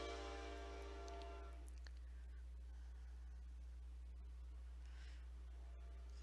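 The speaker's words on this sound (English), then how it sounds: "And of course the train is coming through" A train passes by outside, its horn sounding faintly and fading early over a constant low rumble of rail traffic, heard from indoors at a distance.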